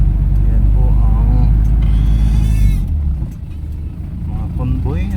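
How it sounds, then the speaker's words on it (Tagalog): Convoy of cars driving along a road past rice fields, a loud engine drone and road rumble that eases off partway through, with people talking over it. "mga convoy ng sasakyan na nasa harapan"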